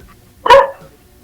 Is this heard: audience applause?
no